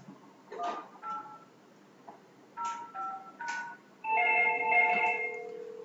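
An Htek IP phone rings with an incoming 3CX call: a few short tonal beeps, then a sustained bright electronic ring near the close, clear and close against a quiet room.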